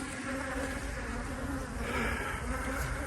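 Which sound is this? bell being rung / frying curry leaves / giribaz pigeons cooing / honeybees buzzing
honeybees buzzing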